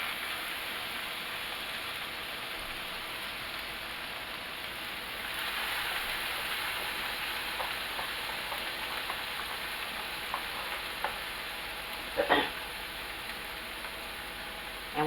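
Broth poured into cabbage frying in a pan gives a steady, dense sizzling hiss that holds throughout, with a brief sharper crackle toward the end.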